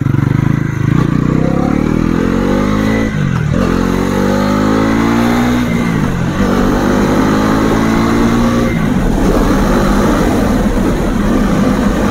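A Bajaj Pulsar NS 400Z with a 373cc liquid-cooled engine revs hard while being ridden, its loud, close engine note climbing and dropping through several gear changes.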